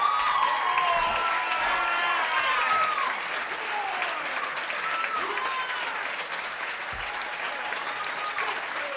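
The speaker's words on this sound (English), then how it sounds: "Yes, clap it up for that" Sustained audience applause at a live poetry performance by youth poet athletes, a steady wash of clapping with a few whoops and cheers rising over it, gradually easing but still going at the end.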